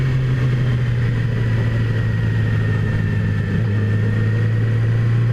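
A 2017 Yamaha R6 sport bike ridden slowly, its engine holding a steady low drone close by with a faint higher whine above it, one small dip in pitch midway.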